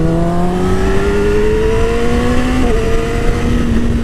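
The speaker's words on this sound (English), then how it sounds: "how much I am loving my freaking new R6 2017 in Yamaha blue" A 2017 Yamaha R6 in Yamaha blue revs steadily while being ridden, its engine note climbing continuously in pitch with a brief dip, loud and close with wind noise and no talk.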